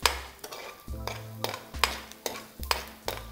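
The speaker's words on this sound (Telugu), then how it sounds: "దీన్ని కాసేపు బాగా ఫ్రై చేసుకోండి" Ingredients for foxtail millet pulihora fry in a pan, stirred in a steady rhythm: about seven scraping strokes with sharp ladle clicks over a soft sizzle.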